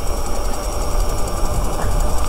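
A homemade electric mini bike's motor runs at half power with a steady, loud whine and rumble, continuous and close, with no talking.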